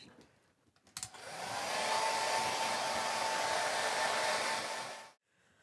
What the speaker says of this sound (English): So I'm going to get my blow dryer at this point and